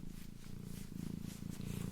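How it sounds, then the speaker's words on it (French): A pet cat purring steadily, close and continuous, with a soft rhythmic low rumble cycling through inhale and exhale and no talking over it. "Elle est posée, elle ronronne, elle est bien."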